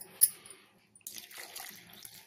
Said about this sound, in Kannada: ಈಗ ಸ್ವಲ್ಪ ನೀರು ಹಾಕೋತಾ ಇದ್ದೀನಿ.